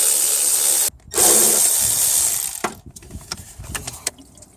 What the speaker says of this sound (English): The electric ratchet wrench will help a little bit with taking off most of the bolts